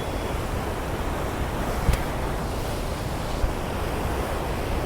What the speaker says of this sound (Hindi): यमुना मैया अपने ही हिसाब से बह रही है, अपने प्राकृतिक हिसाब से